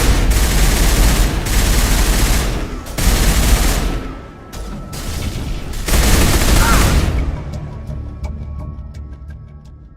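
Sustained gunfire from a firefight in Mass Effect, with loud overlapping bursts of rapid shots in several waves broken by brief pauses, then tapering into scattered distant pops and quieter crackles near the end.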